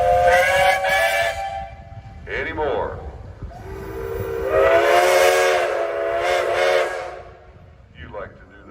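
A steam traction engine's whistle sounds at a steam show: loud, near, sustained shrill tones in several long blasts separated by short gaps, with a brief spoken question near the end.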